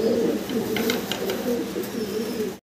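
Muffet helmet fancy pigeons coo softly nearby in a low repeated rhythm, with a few faint higher bird notes mixed in, alone without talk.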